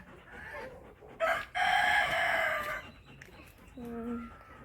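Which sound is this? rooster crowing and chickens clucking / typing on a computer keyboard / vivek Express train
rooster crowing and chickens clucking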